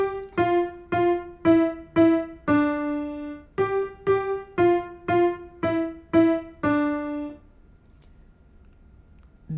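Piano passage played in the earlier hand position, eleven evenly spaced notes and chords struck clearly at a moderate tempo, then a quiet decay.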